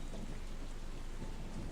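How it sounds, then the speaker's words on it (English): Heavy rain pours down steadily in a forest during a large thunderstorm, a dense continuous hiss with low rumbling beneath, loud and close throughout with no voices. "a large storm blew in, and the skies opened up, and rain poured down in the forest where Leon and his family lived."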